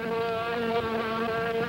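A droning insect buzz from a 1950s sci-fi horror movie trailer, a steady close hum with a wavering pitch that sustains throughout with no voices.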